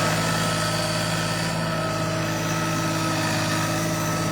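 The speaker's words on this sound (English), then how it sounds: "you can go straight up a mountain on a tractor" A Kioti CK2620 tractor engine drones steadily and close while climbing a mountain, a constant low mechanical hum with vibration and no voices.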